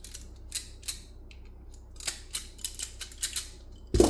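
Cutters trimming the end of a Cat6 Ethernet cable, a series of close, sharp snipping clicks spaced irregularly over a quiet background, ending with a louder handling knock.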